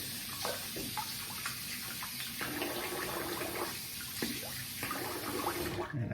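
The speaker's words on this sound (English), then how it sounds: "All right, I'm gonna rinse the face." Running water rinsing a face after a wet shave, a continuous splashing stream from a faucet with intermittent bursts of sloshing as hands scoop water, close and fairly loud.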